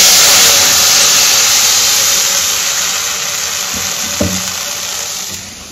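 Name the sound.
buttermilk poured into hot spice tempering oil, sizzling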